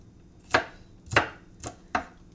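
Half an onion being finely diced with a knife on a cutting board, four crisp separate chops in an uneven rhythm, close and alone.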